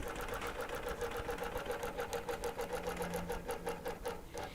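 A quilting sewing machine stitches through a loaded quilt in a steady, rapid mechanical rhythm, running continuously and fairly close with no talking.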